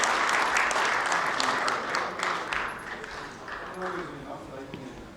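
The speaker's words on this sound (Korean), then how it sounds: "큰 박수 부탁드리겠습니다" Audience applause at a school sports awards ceremony held by a provincial education office, dense clapping that starts loud and gradually thins out over several seconds, with some talk mixed in.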